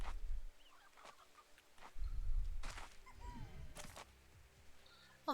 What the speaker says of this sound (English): Oh, I'm trampling chickens, I just realized.